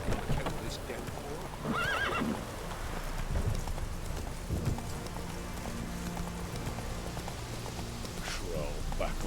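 In The Witcher 3 video game, a horse gallops with clip-clopping hooves through rain and splashing puddles, letting out several loud whinnies and snorts along the way, while voices speak intermittently.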